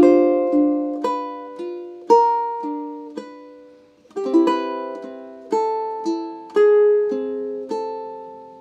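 Measures 11 and 12 of a Zelda melody are played on a lone ukulele, with harmony notes added under plucked melody notes that ring out one after another in a steady rhythm.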